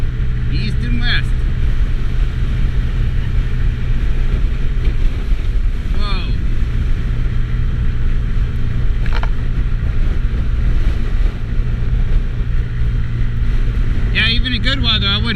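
Strong headwind buffeting the microphone while riding a Honda Ruckus scooter in cold weather, a constant low roar of wind and engine with a few brief higher noises.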